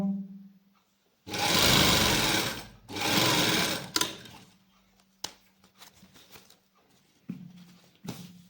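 A sewing machine stitches a straight salwar seam with buckram in it. It gives two loud, close bursts of rapid stitching, each lasting about a second, followed by scattered clicks and handling noises over a faint hum.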